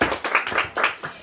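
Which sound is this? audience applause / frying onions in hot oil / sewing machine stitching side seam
audience applause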